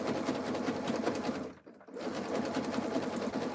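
A sewing machine stitches a jelly roll rug strip in a fast, steady, close-up whir with a brief stop in the middle before it starts up again.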